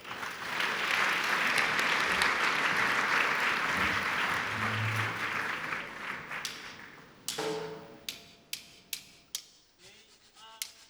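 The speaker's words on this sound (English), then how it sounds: "Please give her a round warm of applause." Warm applause from a ceremony audience at a leadership awards event, a dense crowd clapping that swells then fades after about seven seconds, leaving a few sharp isolated claps or taps spaced out near the end.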